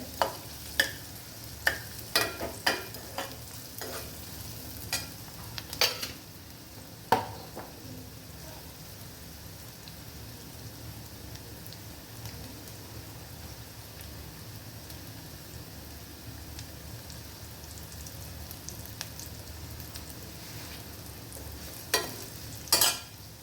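A continuous soft sizzle of onions frying in oil with sugar fills the clip, with sharp clinks and scrapes of a spoon stirring at the start and end.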